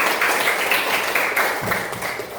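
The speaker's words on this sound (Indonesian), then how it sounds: "Tepuk tangan dulu untuk anak-anak yang masih mengingat ya." Children in a classroom clap together in a brief burst of applause, a dense patter of many small hands close by, lasting a couple of seconds.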